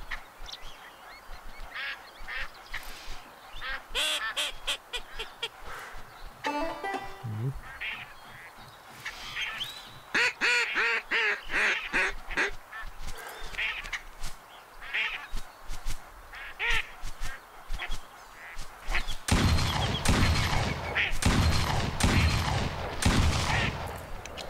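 Ducks quack and honk in a duck hunting video game while bursts of gunfire crack repeatedly, building to dense rapid shooting near the end, with a voice talking over the game sounds.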